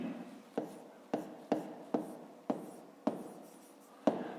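A pen moves across paper while a school maths exercise is written out by hand: quiet, close scratchy strokes in short bursts, each starting with a small tap, about eight in a row.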